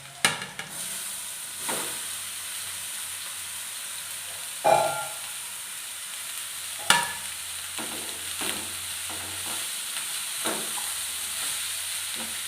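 Chopped carrot and cabbage fry in a pan with turmeric, giving a soft continuous sizzle punctuated by a few sharp spatula knocks and stirring scrapes.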